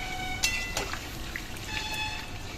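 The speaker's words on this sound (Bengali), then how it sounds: "তারপরে এই যে সিদ্ধ ওলকপি আর আলু জল শুদ্ধ ঢেলে দিলাম।" Boiled kohlrabi and potato tipped into a pan together with their cooking water make a brief, close splashing pour with a couple of soft knocks from the vessel, over a faint steady background.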